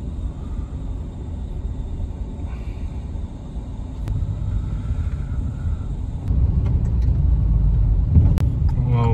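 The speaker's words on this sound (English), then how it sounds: "Wow, what a car." A car passing on a street in a small Russian town, a low continuous rumble that swells and grows louder toward the end, with a few faint clicks and knocks over steady background noise.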